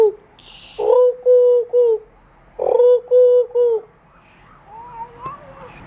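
Toy owl giving two clear hooting calls, each a strong note followed by a few shorter repeated hoots, close and loud in a quiet room with faint sounds afterward.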